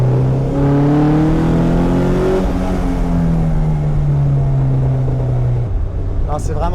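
An Alfa Romeo 105 engine drones steadily, its pitch gliding slowly as it pulls from inside the moving car, loud and close, with a voice speaking over it and a brief lull near the end.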